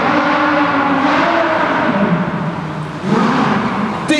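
A Lamborghini race car with a 500-plus horsepower engine at a demo race event revs loudly and steadily up close, with a brief dip and a renewed surge of engine roar.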